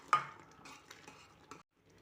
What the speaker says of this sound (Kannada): ಲಮ್ಸ್ ಏನೂ ಇರಬಾರ್ದು, ತಿರುಗಿಸ್ತಾ ಇರಿ ಚೆನ್ನಾಗಿ. ತಳ ಹಿಡ್ಕೋಬಾರ್ದು.